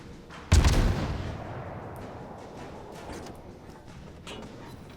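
A naval gun fires once in a video game sea battle around the Solomon Islands, a sharp, loud blast that trails into a long rumbling decay over low battle ambience.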